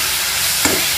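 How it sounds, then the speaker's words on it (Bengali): Dates and tomatoes stirred together in a pan with turmeric and Kashmiri chili for a chutney: a brief, loud, close sizzle with a quick scrape of the spoon. "খেজুর আর টমেটো ভালো করে মিশিয়ে নিচ্ছি"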